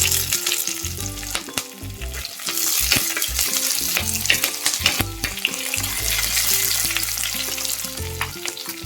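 Crushed ginger, garlic and curry leaves frying in oil for a fish curry, a loud close crackle and sizzle with rhythmic stirring scrapes and no talk.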